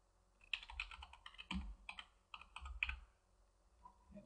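Keys clack on a computer keyboard while a hyperlink is entered on a web page, a short irregular burst of soft, close taps with small pauses between them and no talking.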